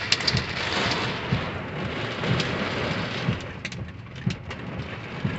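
Heavy storm noise near a creek with wind roaring and hail pelting a surface, punctuated by periodic sharper knocks.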